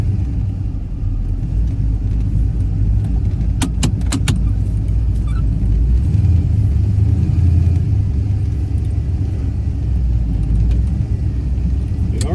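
A ratty Pontiac GTO fitted with QA1 coilovers drives down the road, a loud steady low rumble from inside the cabin with a few sharp clicks and rattles partway through.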